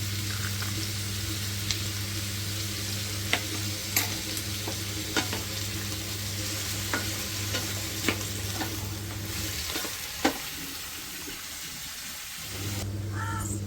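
Ginger, garlic and shallots frying in sesame oil while making tomato chutney, a steady sizzle with scattered utensil scrapes and taps, close and fairly quiet, fading out near the end.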